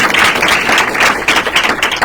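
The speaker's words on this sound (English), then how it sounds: "Let's give him a round of applause." An audience at an evening community discussion event in Louisville claps steadily, dense continuous applause from a room of people.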